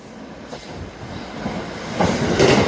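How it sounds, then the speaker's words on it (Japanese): A Kanto Railway Ryugasaki Line train rumbles through a station without stopping, growing louder toward the end, with a rushing whoosh and faint wheel squeal, no voices. "まもなく3番線を列車が通過いたします。"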